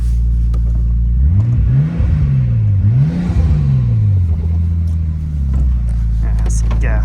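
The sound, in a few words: Nissan Skyline GTT engine revving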